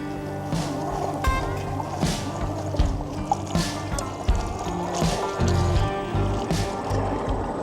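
A large radio-controlled tractor churns through thick, sticky mud, with wet squelching and sloshing over a steady low motor whine and irregular squishy pulses as the tyres grip and slip.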